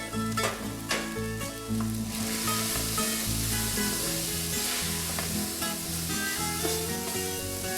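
Minced garlic hits browned meat in a hot pan, setting off a loud, steady sizzle that stays up close throughout, with occasional stirring scrapes on top.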